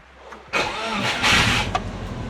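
A turbocharged Subaru Forester, running rich, cranks briefly and catches, its engine bursting into a loud, close roar that settles into a slightly uneven idle.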